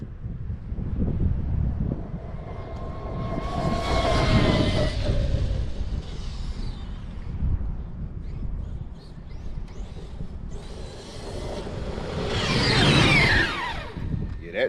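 A Redcat Vigilante 8s RC car tears across off-road ground at full throttle, its high motor whine rising and falling in repeated passes through gusty wind noise, with a voice speaking briefly.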